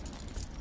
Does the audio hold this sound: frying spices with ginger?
no